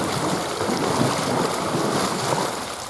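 Water churns and splashes continuously as hands twist through a shallow pool during an aqua aerobics move, a dense rushing wash of turbulence with no talking.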